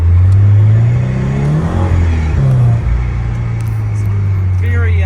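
A supercharged 2017 Subaru BRZ drives and accelerates, its engine note rising and sweeping upward from inside the cabin, loud and continuous throughout.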